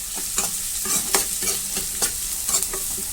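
Onions and green chillies frying in a pan for egg fried rice, with a continuous sizzle and a spatula scraping and stirring in repeated rhythmic strokes, close and clear with no voices.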